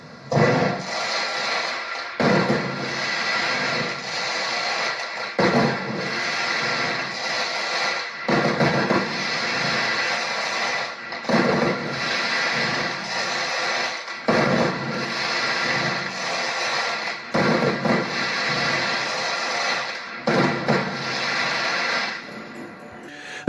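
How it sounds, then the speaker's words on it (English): A fast-firing firework cake sets off loud, dense bursts of explosions that rattle on almost without pause, broken by a few short gaps, with no voices. "it's a fast firing cake, so it doesn't last long, but it is rather explosive when it goes off"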